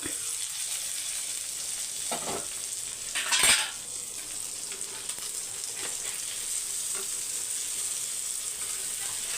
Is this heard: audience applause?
no